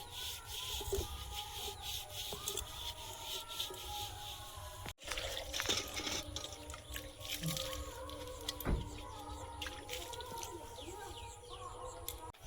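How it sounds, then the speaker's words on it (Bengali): Puja utensils and plates being scrubbed and rinsed with water, with rubbing, dripping and clinking of metal continuing throughout, birds calling faintly in the background and a voice speaking briefly. "এখন মেজে ধুয়ে পরিষ্কার করে নেব"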